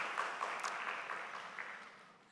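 A congregation at a Sunday morning worship service at Handong University church claps in thanks, moderately soft applause that gradually tapers off.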